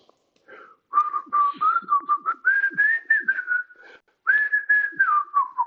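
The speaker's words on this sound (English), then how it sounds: "you can hear that whistling again" A clear whistling tone rises and falls in a wavering melody, broken into several sustained phrases with short gaps, fairly loud and alone.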